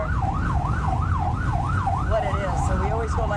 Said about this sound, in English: So we always go lights and sirens